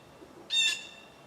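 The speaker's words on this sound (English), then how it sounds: "some kind of bird interrupting my flow here" A bird gives a single harsh squawking call outdoors, fairly close but brief, beside a home water heater installation with no talk.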